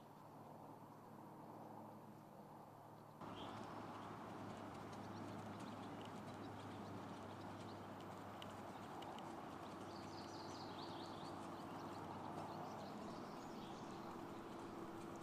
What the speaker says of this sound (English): the first gait or speed that was demonstrated was simply walking the horse.